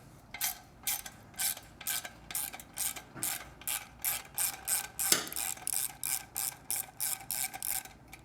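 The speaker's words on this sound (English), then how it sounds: "You get your 10mm socket and loosen up that clamp." A 10mm socket ratchet loosens an exhaust clamp on a Triumph Street or Speed Twin motorcycle, giving a close, steady run of rapid ratcheting clicks in regular short bursts, with no voices.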